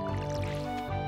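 A watering can waters crops in the Stardew Valley farming game. It gives a dense, wet, sloshing splash of liquid over steady background music, with a few drippy pulses and no talk over it.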